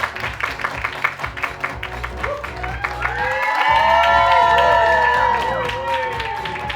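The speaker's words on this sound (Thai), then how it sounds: "ขอเสียงปรบมือ ในการต้อนรับครับ" An audience claps to welcome guests at a travel brand launch event, first light scattered clapping, then swelling into louder applause with cheers and excited voices.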